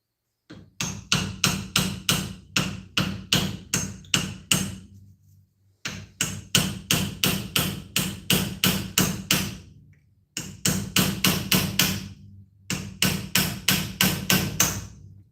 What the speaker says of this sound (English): We could take the punch to it with a hammer.